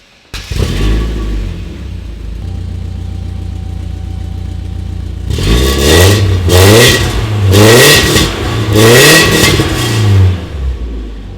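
Straight-piped BMW E36 engine starting and idling with a steady low burble, then revved hard in four or five loud, raspy bursts close by.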